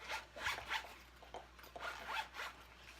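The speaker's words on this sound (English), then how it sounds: "there is 4 zippers" A zipper runs along a small, Trapper Keeper-style artist's pencil case binder with four zippers, giving about five quick, close rasping pulls in an uneven rhythm with no talking.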